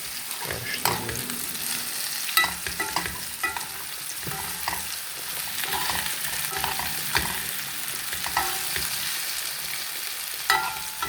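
Potatoes and carrots fry in a pan, a continuous close sizzle broken by repeated scraping stirs and light knocks of the utensil.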